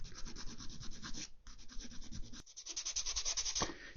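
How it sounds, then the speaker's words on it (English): Sandpaper rubs by hand over the plastic hull of a model Yamato battleship in quick, rhythmic back-and-forth strokes, close and continuous with a couple of brief pauses. "just keep angling away so you don't rub any of this detail off around the windows"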